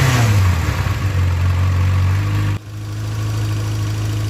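A 1992 Yamaha XJ600 Seca II motorcycle engine, suspected of a charging system fault, holds a steady high idle up close, a loud even drone that dips briefly and resumes at a slightly lower, settled pitch.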